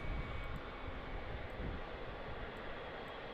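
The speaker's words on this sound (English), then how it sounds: "Oh, listen to those G90s." Jet engines of a Singapore Boeing 777 freighter with GE90 engines at Melbourne Airport, a steady broad roar filling the whole stretch, fairly distant and unbroken, with no talk over it.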